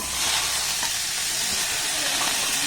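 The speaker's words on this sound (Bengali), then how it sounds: "গ্যাসের ফ্লেমটাকে লো রেখে দেখুন সবজিগুলোকে একটু আমি নাড়াচাড়া করে ভেজে নিয়েছি" Vegetables fry over a low gas flame, a dense, even sizzle and hiss held steady throughout, close and moderately loud, with no speech over it.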